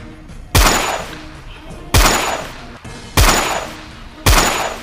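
A toy shotgun is test-fired four times at an even pace, each shot a sharp, loud crack with a short rattling tail, and no talking.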